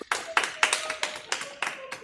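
A lecture hall audience at a Wesleyan theology institute claps to welcome a university president, Dr. Kim Hong-gi. The claps are sharp and close, in a loose, fairly steady rhythm, with a few hands dominating rather than a dense roar.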